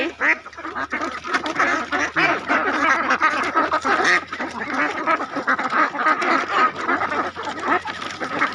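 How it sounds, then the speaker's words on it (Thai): A large flock of egg-laying ducks out in a field quacks loudly and continuously, many overlapping calls forming a dense, unbroken chorus close by. "เป็ดงามมากค่ะ"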